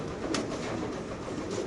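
Pigeons at a pigeon seller's shop coo softly in a brief, low, murmuring burble, faint and somewhat muffled against a steady background hum.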